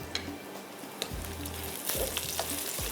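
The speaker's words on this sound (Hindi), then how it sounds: "यहाँ पर प्याज ब्राउन हो रहा है और इसके अंदर होगा गरम मसाला भी ब्राउन" Onions browning in oil with whole garam masala spices such as bay leaf, star anise, cardamom, cinnamon, cumin and cloves, for a Hyderabadi egg pulao, giving a steady soft sizzle with occasional pops and stirring clinks.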